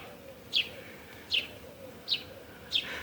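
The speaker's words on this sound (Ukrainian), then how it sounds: "Бджоли гудять, пташки співають." A small bird chirps four times at steady intervals, short bright calls over a soft outdoor hush.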